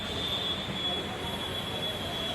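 Rapid Metro train in Gurgaon, a steady rolling rumble of rail cars with a sustained high-pitched wheel squeal running through it.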